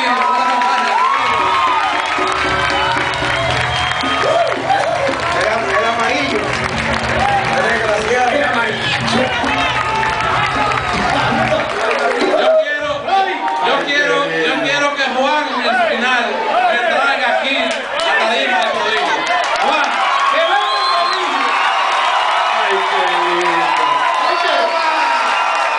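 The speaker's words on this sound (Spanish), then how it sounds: "Y yo quiero que ustedes me hagan un aplauso aquí" Concert crowd with a live banda cheers, whoops and shouts, loud and continuous, while music and voices carry underneath; the noise shifts partway through as the band sound drops away and the crowd keeps roaring.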